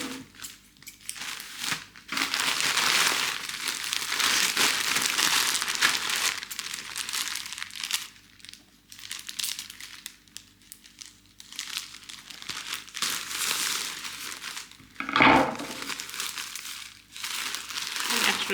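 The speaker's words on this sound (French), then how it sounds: "allons-y pour le déballage." Fabric parcel being unwrapped at home: plastic packaging crinkles and rustles loudly and almost continuously at close range, with a short pause and one louder crackle near the end.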